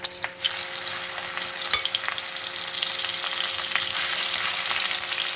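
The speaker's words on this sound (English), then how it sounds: "Then add saag and let it simmer until it releases oil." Mustard greens (saag) with garlic cooking in oil, a steady broadband sizzle and frying hiss with a few stirring clatters, close and even throughout.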